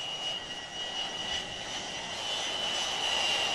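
Steady jet engine roar from a Lockheed S-3 Viking of Sea Control Squadron 31 at Jacksonville air base, a continuous loud whine with a sustained high tone throughout and no voices.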